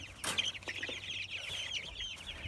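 Meat chickens in a movable hoop house coop cluck and murmur softly in a busy overlapping chorus, with a few louder squawks near the start, all fairly faint.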